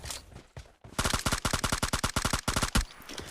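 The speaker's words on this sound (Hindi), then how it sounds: "इधर से कुछ जो है फायर के साउंड आते हैं मुझे" Rapid automatic gunfire rattles in a shooter video game as a fast string of loud close shots with short pauses. A few scattered shots come before and after the main burst.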